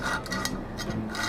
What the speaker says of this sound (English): We're just going to scribe using the drill bit